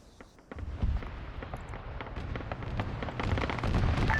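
Automatic grenade machine gun rounds striking a tank turret in a video game, heard as a dense, continuous crackle of small explosive pops that builds slightly in loudness toward the end.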